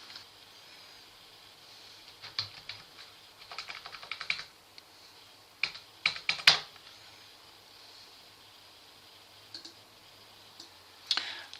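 Keystrokes on a computer keyboard typing a file name, arriving in several short clusters of quick, light clicks separated by quiet pauses, close and fairly soft.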